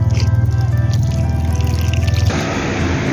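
Spring water from a mountain source flows steadily in a loud, close, continuous stream, with no talking over it.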